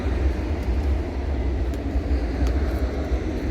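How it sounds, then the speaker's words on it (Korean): A train climbing past at dawn near an orchard, heard as a steady low rumble with continuous heavy rolling noise throughout, fairly close and loud, with no talk. "새벽에 또 기차가 올라갑니다."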